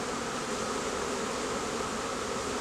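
Honey bees hum loudly and continuously around a rescued swarm hive frame, a dense close-up buzz with no voices.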